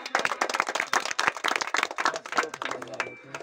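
Crowd clapping at an outdoor village election campaign gathering, a burst of irregular close applause with voices mixed in throughout.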